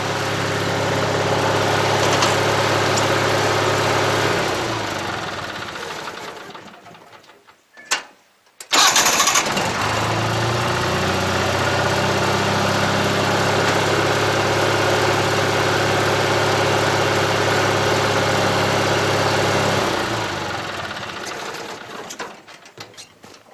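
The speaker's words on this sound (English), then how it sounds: "Shut it off and then I'll start it back again so you can see how it starts when it's warmer." A John Deere 316 lawn tractor engine idles loudly, shuts off and goes quiet, then cranks briefly and restarts warm, settling into a steady close idle before cutting off near the end.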